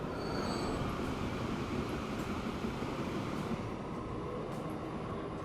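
Train from the game Transport Fever 2 pulling into a station, a steady, loud rumbling roll of wheels on track that carries on unbroken, heard alone with no talking.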